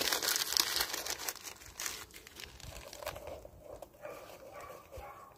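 Paper crumpled as starter fuel for a beekeeper's bee smoker, a dense crackling and crinkling that runs steadily through the clip, close and fairly loud with no talking.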